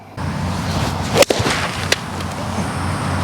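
Golf ball struck off the tee with a driver, one sharp crisp click followed by a softer swish, with a faint second tap shortly after, outdoors with steady background noise.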